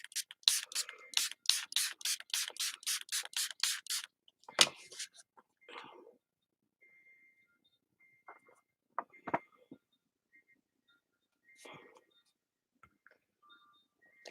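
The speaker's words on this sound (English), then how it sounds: "That's with spraying it after." A spray bottle of rubbing alcohol pumped about a dozen times in quick rhythmic hissing bursts, followed by faint handling clicks and rustles in a quiet room.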